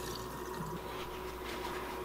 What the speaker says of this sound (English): rinse it off really well. And it doesn't have to be warm water